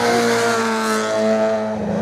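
A race car at a regional hill climb at Hébécrevon passes close to the spectators. It is a loud, sustained engine whine that holds a steady high pitch, then drops and fades slightly near the end.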